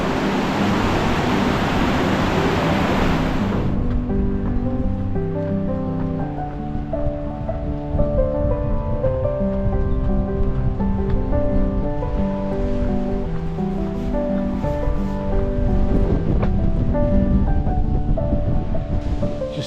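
Swollen river running fast and full after a storm in the remote Southern Uplands, a loud continuous rushing roar of water heard close by, steady throughout with no voices.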